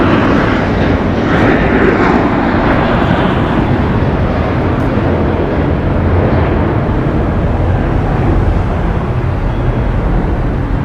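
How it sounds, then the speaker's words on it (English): An American Airlines Airbus A321 departs from LAX, filling the air with a continuous, loud and broadband jet engine roar that holds steady throughout. "Departing here is American Airlines flight 1980, going to Dallas, Texas. It's an Airbus A321."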